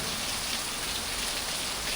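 Steady, dense rainfall in the Thai countryside, hissing across the whole clip, an even wash of drops on surfaces with no pauses or other sounds.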